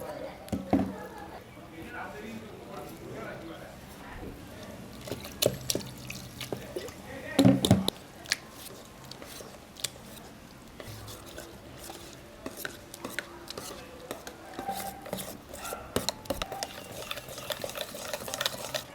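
Water poured into Mangalore bonda batter made with curd and stirred by hand in a bowl, with soft wet mixing and scraping sounds, a few louder clacks near the middle, and a voice talking throughout.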